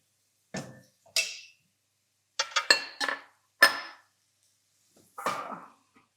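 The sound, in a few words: lid being closed on a cooking pot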